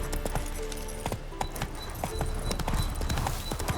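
The horse Roach clip-clops at a steady trot in Witcher 3, hooves striking close and clear over a background of game ambience.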